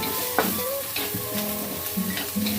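Onions sizzle in oil in a pan for Kerala chicken curry, with a spoon stirring and scraping through them in short irregular strokes over a steady close frying hiss, no talking.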